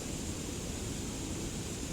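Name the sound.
waterfall water foaming and splashing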